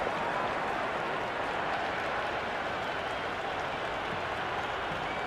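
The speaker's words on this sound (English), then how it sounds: "It's evident and ever so audible that the crowd is at near bursting point at today's play." A dense cricket stadium crowd in the video game Cricket 26, Pakistan vs New Zealand, roaring and applauding in a steady, loud wash of cheering that holds at the same level throughout.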